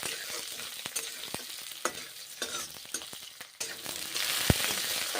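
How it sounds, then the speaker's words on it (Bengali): Onions fry in hot oil in a pan for a bean and pointed gourd curry, giving a steady close sizzle with occasional clicks and pops from stirring. The sizzle swells louder toward the end. "পেঁয়াজগুলো এখন ভেজে নিচ্ছি।"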